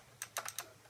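Typing on a Qwerkywriter S typewriter-style keyboard, a handful of crisp, clacky keystrokes in an uneven rhythm, close and fairly quiet in a calm room.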